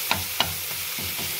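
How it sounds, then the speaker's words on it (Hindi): Spices fry in a pan with a steady hiss, and two sharp scrapes from the stirring utensil stand out near the start. "थोड़ा सा ऐड करेंगे यहाँ पर और इसको अच्छे से मिक्स करेंगे"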